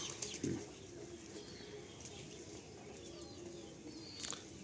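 Madrasi pigeons in a loft give faint, soft coos, with a brief flutter of wings early on against a quiet, steady background.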